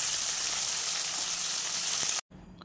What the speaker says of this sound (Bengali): 4টে পিস পরে দিয়ে ভেজে নিচ্ছি।